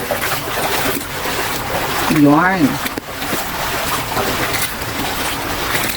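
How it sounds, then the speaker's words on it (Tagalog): Floodwater from Super Typhoon Carina rushes across what used to be a road, a steady broad wash of flowing water heard close by under a person talking, with a brief rising vocal exclamation partway through. "Ilog na yung daanan."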